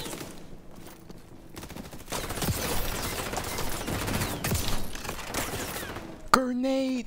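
An SMG fires in XDefiant during a first-day match, with sustained rapid bursts of automatic gunfire and overlapping shots from nearby, followed by a sudden electronic tone at the end.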